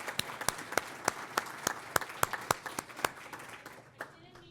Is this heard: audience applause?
yes